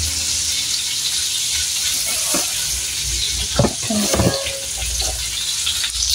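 Dried fish (bulad) frying in a pan, a steady loud sizzle with a few stirring scrapes and clinks partway through, heard close with no talking.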